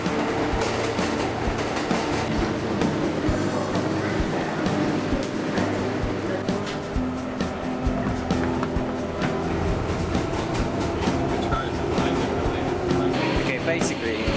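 A New York subway train rides along with a loud, continuous rumble and rattle of wheels and car body, heard from inside the carriage, with a person talking over the noise throughout.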